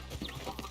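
Horse hooves clip-clop in Red Dead Redemption 2, short soft thuds in a brief stretch with a faint background hum, no talking over them.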